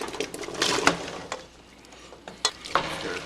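A spoon stirs potatoes into boiling stock in a pot, making soft scraping and sloshing strokes with a few sharper clinks, close by over a faint bubbling background.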